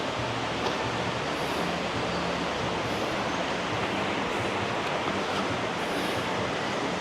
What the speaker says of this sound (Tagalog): rinig kami na yung sound of water eh. Kasi malakas na dito tubig.